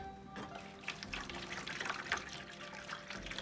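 Water trickles and splashes softly into plant trays holding potted tropical trees, a faint continuous running sound with low background hum.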